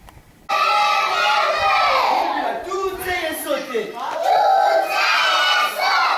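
Children shouting and chattering together in a schoolroom, a loud continuous crowd of young voices filling the space after a quiet start.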